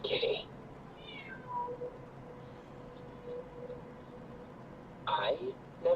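Cat in the video game Genshin Impact gives short meows, one at the start, a softer one just after, and another near the end, over a quiet ambient background with low voices.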